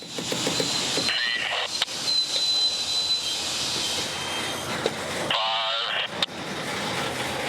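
A local freight crew couples center-beam cars on a curved track in a Tampa rail yard. Wheels squeal and grind steadily, and a few sharp metallic clanks ring out over a low rumble.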